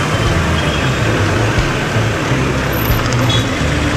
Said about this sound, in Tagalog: Traffic yan.